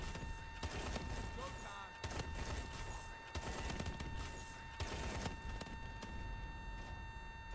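Gunfire from the Call of Duty Advanced Warfare video game, a steady stream of bursts and fusillades running throughout at constant loudness, with game voices and talk layered over it.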